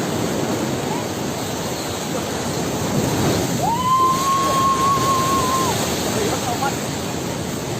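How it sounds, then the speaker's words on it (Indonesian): Bono tidal bore waves crash and roar in a loud, continuous wash of surf noise up close, with a brief whistle-like tone rising over the rush midway. "Ombaknya menerpa."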